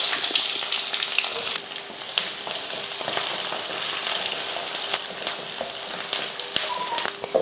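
Onions frying in hot oil in a kadai with mustard seeds and curry leaves, a steady close sizzle and crackle running throughout with scattered pops, no talking.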